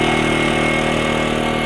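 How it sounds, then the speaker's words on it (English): Wen 56225i 2250-watt inverter generator running, heard from the exhaust side: a loud, steady, close engine drone with a buzzing hum that holds unchanged throughout. "let's just take a trip around the generator, and you'll notice it is louder in the back"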